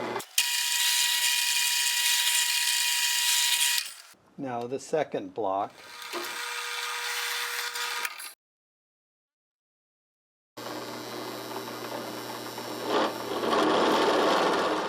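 A power drill whines loudly in three separate bursts while drilling wood blocks for a homemade telegraph, the motor's steady pitch cutting through grinding; a short spoken remark falls between the first two runs.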